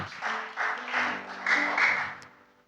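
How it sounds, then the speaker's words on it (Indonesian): A crowd claps in uneven waves for a couple of seconds, with faint voices mixed in before the applause fades. "Tepuk tangan buat Jordi nih loh."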